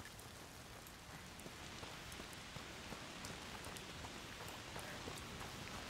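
Rain falls in the game A Plague Tale Requiem, a soft, steady patter with scattered individual drops ticking on surfaces, quiet and continuous with no voices.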